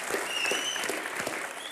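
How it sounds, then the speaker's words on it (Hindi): A studio audience at a comedy talk show applauds in a steady, dense wash of clapping that holds evenly throughout the short stretch. "अनिल सर के लिए तालियां होनी चाहिए।"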